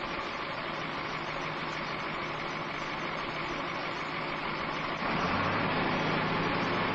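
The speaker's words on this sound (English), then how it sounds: "While he waits for the engine to warm" A construction machine's diesel engine warms up and idles with a steady, close rumble that grows slightly louder and deeper after about five seconds; no one speaks.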